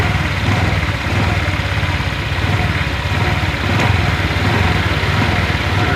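A Honda Vario 125 LED scooter engine runs close by, a loud, steady buzzing drone with slight rises and dips in revs throughout.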